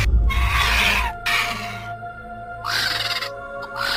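Menacing vulture cry in an animated horror story, a harsh screeching call heard in several loud bursts, with a low rumbling drone underneath.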